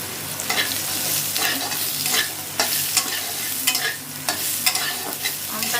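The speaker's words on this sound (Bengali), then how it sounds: "পাঁচফোড়নটা ভাজা ভাজা হলে আমি আমটাকে ছেড়ে দেব" Raw mango hits hot oil with panch phoron spices in a pan, making a loud continuous sizzle punctuated by repeated sharp scrapes and taps of a spatula stirring, with no voices.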